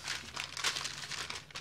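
Parchment paper crinkling and rustling as cookie dough for shortbread biscuits is placed between two sheets, a close, continuous papery crackle with irregular bursts and no talking.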